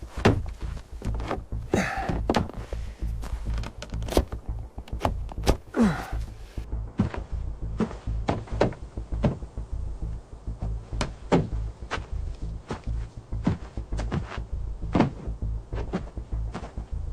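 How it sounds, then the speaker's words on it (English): Irregular wooden knocks, thuds and scrapes ring out over nearly twenty seconds as a makeshift door is fitted to a rebuilt log cabin, with heavy thumps spread unevenly between quieter handling sounds. "He installs a makeshift door."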